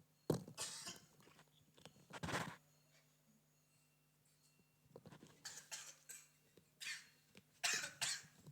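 Someone coughs repeatedly on a cold winter day, several quiet, raspy bursts spread irregularly across the stretch, with faint clinks of dishes in between.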